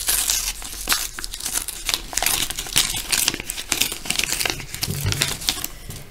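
Crinkly plastic wrapper of a Cards Against Humanity card pack being torn open and crumpled, a close, continuous run of sharp crackles and rustles with no talking.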